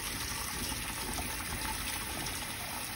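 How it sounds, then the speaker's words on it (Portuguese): Tap water gushes into a small pot at room temperature, a steady, loud, unbroken rush of pouring water lasting the whole stretch with no voices. "Aqui, vamos encher um potinho com água."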